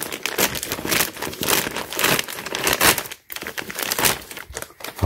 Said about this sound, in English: let's go and then unwrap this or unbox it